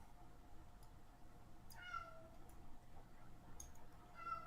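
A person imitates a cat, giving two short, faint meows a couple of seconds apart over a quiet room hum.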